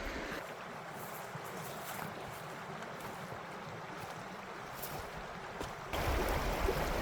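A trout creek flows nearby with a soft, continuous wash of running water that grows slightly louder and brighter toward the end.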